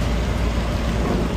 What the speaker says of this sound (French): Il pleuvait un petit peu tout à l'heure, et il pleut beaucoup plus.